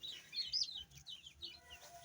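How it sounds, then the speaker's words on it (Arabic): Rizzy breed chicks cheep in quick, high, thin peeps, several bursts close by at low volume. "دي الكتاكيت الرزي برضو لا غنى عنها في الدورة عندي"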